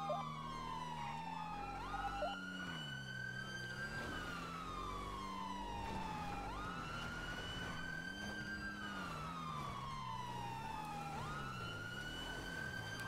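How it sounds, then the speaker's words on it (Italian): Police sirens in the video game GTA V wail in long rising and falling sweeps, several overlapping, over a low engine rumble during a heist chase. "Sento altre sirene, perfetto."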